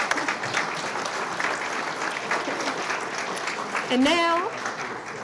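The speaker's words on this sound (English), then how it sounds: "let's give these nice folks a round of applause again for their help and assistance" An audience at a volunteer awards event gives the helpers a round of applause, dense clapping throughout, with a voice starting to speak over the clapping near the end.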